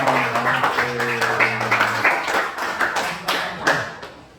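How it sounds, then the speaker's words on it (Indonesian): Audience clapping for a student group after a forest-conservation presentation, a dense burst of hand claps with a low sustained tone fading underneath in the first half, tapering slightly toward the end. "Ya, tepuk tangan untuk kelompok 2."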